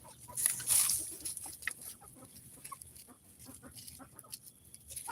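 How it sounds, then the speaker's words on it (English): A solid blue Americana hen on a farm clucks in short, irregular bursts, close and moderately loud, with some higher squawks early on and no talk. "She's an Americana hen."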